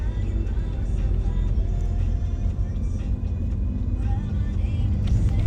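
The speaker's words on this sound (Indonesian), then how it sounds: "ini motor lagi nih." Road traffic passes along a street in Jakarta, a steady low engine rumble and whir that stays fairly loud throughout without a clear pass-by peak.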